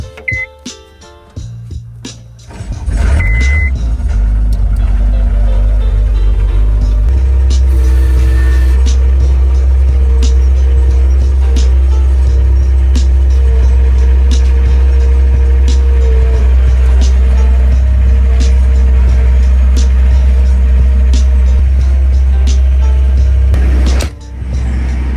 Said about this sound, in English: This is our skid steer 325.